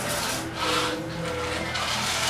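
Hands rubbing paprika seasoning into meat, a soft steady scraping and rasping close by, fairly quiet and continuous over about two seconds with no talk.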